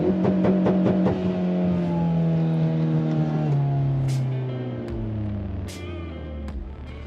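A Mitsubishi Evo X engine revs hard in first gear with the clutch in, rising to a steady high-rpm hold and then falling away with rev hang. It is loud and close, with no talk.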